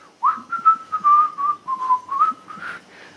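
A bright, wavering whistled tune carries on steadily for about three seconds, close and clear, its notes sliding and rising without any talking.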